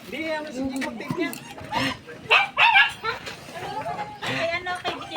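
A dog gives yips and whimpering barks in short bursts amid people talking close by.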